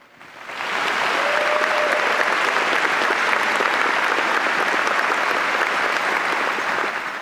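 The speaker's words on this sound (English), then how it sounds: "Please join me in giving all of our distinguished guests a round of applause." An audience at the Philip Simmons High School 2021 commencement breaks into applause for distinguished guests, quickly swelling to a full, even round of clapping that holds for about six seconds before tapering slightly.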